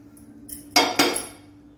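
A metal utensil clinks sharply twice against a ghee-greased plate while kaju katli mixture is transferred, two bright close strikes less than a second apart with a short ringing decay.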